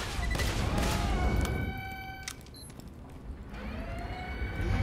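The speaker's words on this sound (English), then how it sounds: "I brought a shotgun." Shotgun blasts in Borderlands 2, layered into dense game audio with bursts of gunfire early on, ringing tonal effects and a steady background din throughout.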